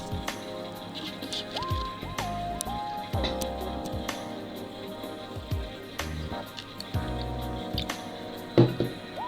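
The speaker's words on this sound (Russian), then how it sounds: "Вот потихонечку капает." Soil solution dripping slowly through a paper filter into a juice jar: irregular, close, distinct drops and small liquid plinks spaced across the quiet, with faint handling sounds and no talk.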